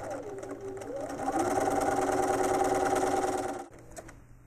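An APQS longarm quilting machine stitches binding onto a quilt edge, a steady mechanical whir with a rising pitch sweep that holds for a few seconds before cutting off abruptly.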